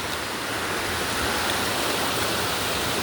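Waterfall on a mountain trail, the second of several falls along the climb, roaring as a steady, dense wash of rushing water close by, with no voices over it.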